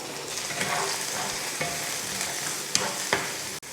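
Chopped onion, beans, carrot and green chillies sauté in hot oil for egg fried rice, giving a continuous close sizzle broken by a couple of sharp utensil scrapes and taps near the end.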